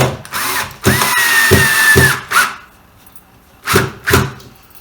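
A power drill drives a fastener into a ceiling joist for hanging a workbench light on chains: a long sustained whine near two seconds, then several short loud bursts and pauses, close and clear with no talk.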